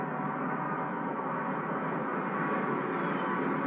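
Broadband jet roar from a C-17 Globemaster transport aircraft in a flypast over London near Buckingham Palace, a steady, loud, continuous rumble that holds throughout with no voices.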